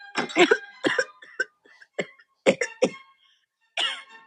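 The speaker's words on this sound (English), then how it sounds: "she started coughing and sniffing after almost choking" A woman coughs hard and sniffs after nearly choking on juice that went down the wrong way, a run of sharp, separate coughs with short gasps and pauses between them, close and alone.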